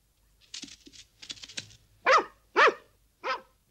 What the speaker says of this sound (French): deux aboiements forts et un faible